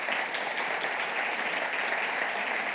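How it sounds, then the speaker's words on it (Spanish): An audience at an alumni gathering applauds Margarita with a steady, even wash of clapping that continues without a break. "Un aplauso para Margarita."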